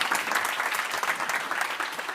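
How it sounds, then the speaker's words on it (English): Audience applause at a Downtown Kissimmee Council community update event, steady dense clapping from a room full of people, sustained and even throughout with no talking over it. "Let's give them a round of applause."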